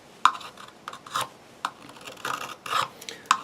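A carving blade rasps waste wood from a wooden coffee scoop in a series of short, separate scraping strokes, close and moderately loud, with brief pauses between cuts.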